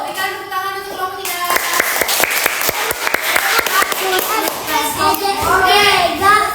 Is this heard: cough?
no